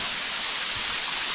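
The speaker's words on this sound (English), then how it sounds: "on to the next waterfall, the Integrid waterfall that we came down here for" The Integrid waterfall in the Blue Mountains produces a steady, broadband rushing roar of falling water, close and continuous, with no voices.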